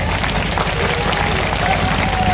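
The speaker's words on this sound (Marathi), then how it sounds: "एकदा त्यांच्या पाठीवर थापून जोरदार टाळ्या वाजवायचा" An audience claps and cheers loudly at an outdoor singing program for Bhima Koregaon Shaurya Din in Pusad. The applause is dense and continuous, with crowd murmur running underneath throughout.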